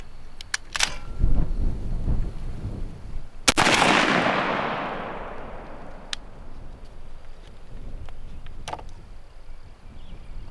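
A Benelli M2 shotgun fires a TSS load downrange in one sharp, loud blast, followed by a long fading echo. Several smaller clicks and handling knocks come before and after it.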